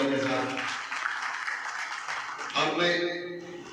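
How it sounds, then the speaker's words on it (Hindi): An audience at a school ceremony honouring Class 10 toppers applauds loudly for the students, a broad burst of clapping that swells again near the end as an announcer's voice comes through. "एक बार फिर से जोरदार तालियों के साथ"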